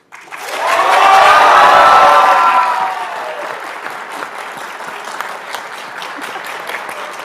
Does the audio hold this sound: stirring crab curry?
no